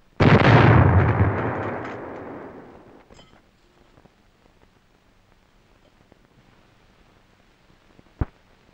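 A 75mm pack howitzer fires a single loud round, the blast booming up close and then rolling off over about three seconds into quiet, followed by one sharp distant crack near the end.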